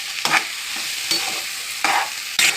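Capsicum gravy with onion and tomato sizzles in a kadai while a spoon scrapes and stirs in several sharp bursts over a soft, constant frying hiss, close and without talk.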